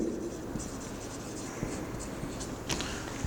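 Marker or chalk writing on a board during a physics lesson on standing waves, faint scratchy strokes and light taps in a quiet room, without any talking.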